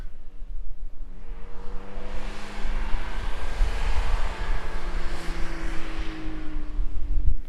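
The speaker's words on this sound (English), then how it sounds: "you could hear the distant sound of the car approaching" A car approaches from a distance on a road, its low engine rumble and tire noise swelling gradually and growing louder toward the end, with some wind noise, no voices.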